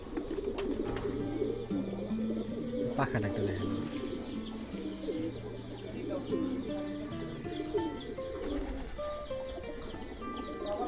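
Fighter pigeons coo in low, repeated rolling calls, close and steady throughout, mixed with other bird chirps, while someone talks over them.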